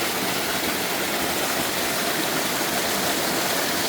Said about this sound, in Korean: 보명산 계곡 자연폭포를 찾아냈습니다.